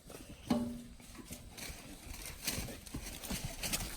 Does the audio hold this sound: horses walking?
yes